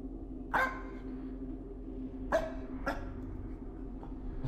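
A dog in a horror video game barks three sharp times at a middle distance, with a single isolated bark followed by two in quick succession, over a low steady ambient hum.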